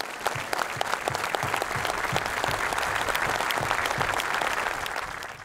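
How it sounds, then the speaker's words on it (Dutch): A crowd gathered at a cycling race gives a minute of applause in memory of Ton Brabander, the race's organiser, sustained even clapping with some sharper individual claps standing out near the listener. "in plaats van een minuut stilte is er een minuut applaus"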